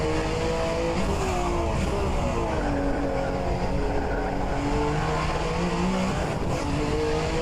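A Group C sportscar on a full fuel tank and cold tyres at Sebring in a racing game, engine droning and gradually rising in pitch as it accelerates, loud and steady with no talk.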